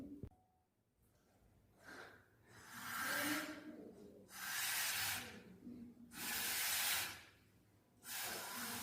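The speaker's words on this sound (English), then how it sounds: "When we blow the balloon and release it, the car starts because air exerts pressure on the car." Air hisses out of a released balloon driving a toy balloon car, in several separate bursts of breathy rushing sound, fairly close, with short quiet gaps between them.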